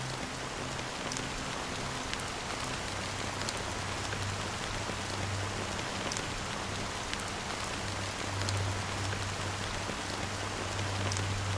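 Rain pouring steadily in Honkai: Star Rail, a dense, even hiss of raindrops on surfaces with occasional sharper drips and a faint low hum beneath, with no one talking.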